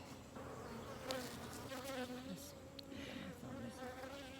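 A steady, dense buzzing of many honey bees at a hive fills the air continuously, close by and unbroken.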